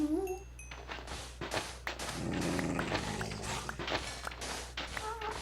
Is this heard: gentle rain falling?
no